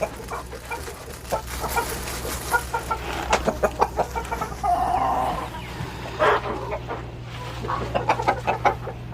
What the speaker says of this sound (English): This is my black copper Moran rooster, and she is an Easter egger